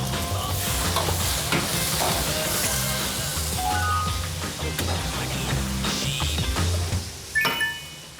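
Spicy pork and squid stir-frying in a hot pan sizzle loudly and steadily, with stirring and clanks throughout and no talk.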